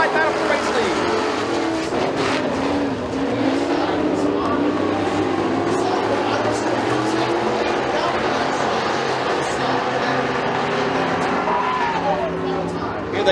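Pure stock race cars roar around a dirt oval through the final turns of a heat race, engines droning loud and continuous with sliding tires, under steady announcer commentary.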